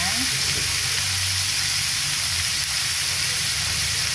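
Pork sizzling in a hot pan with bay leaves and pepper, a steady bright hiss of frying that holds evenly throughout with a low hum underneath.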